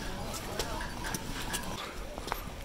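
Horses clip-clopping at a busy horse stand on the Kedarnath pilgrimage route, hoof strikes scattered and irregular among a steady crowd murmur, with people talking throughout.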